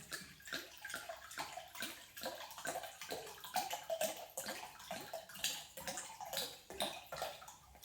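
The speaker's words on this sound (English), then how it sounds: "So the first thing to do is to put the wine into the slow cooker." Red wine poured into a slow cooker, a steady splashing and gurgling stream of liquid heard close up, running without pause and with no talking.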